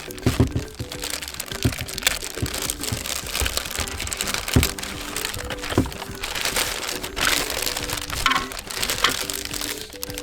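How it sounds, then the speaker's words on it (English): Protective plastic foil being peeled and crinkled off a new Corsair K55 RGB Pro XT keyboard, a steady run of close crackling, rustling and sharp crinkles lasting throughout with no talk. "right now I'm gonna remove foil from this keyboard"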